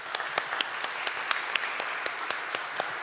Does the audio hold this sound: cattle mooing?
no